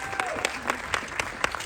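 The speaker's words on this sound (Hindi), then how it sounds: "इसकी एक बार जोरदार तालियां होनी चाहिए।" Audience applause at a film teaser launch event, steady dense clapping from a large crowd with regular louder accents, filling the whole moment without a break.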